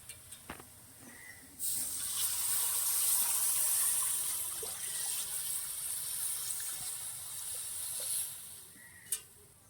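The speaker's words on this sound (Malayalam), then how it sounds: "നമുക്കിപ്പോൾ ഇനി വെള്ളം ഒഴിച്ചു കൊടുക്കാം" A few clinks, then a sustained rushing hiss as water is poured into a hot pot of fish curry, settling into a softer hiss before a final clank.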